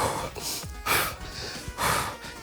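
Heavy, forceful breathing during an advanced bodyweight home workout, close sharp inhales and exhales repeating in uneven bursts, alone without talk.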